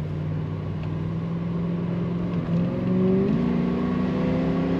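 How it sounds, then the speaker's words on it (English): A 1987 Chevrolet Monte Carlo SS with a column-shift automatic accelerates from inside the cabin, its engine drone rising and then jumping in pitch and loudness as the transmission kicks down, heard steadily with no talking. "Pushing the throttle down, it does kick down the automatic transmission as it should."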